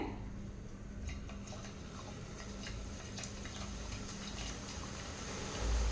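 Boondi batter dropping into hot oil for laddu, a steady dense crackle and sizzle of frying with scattered ticking pops, close and continuous throughout.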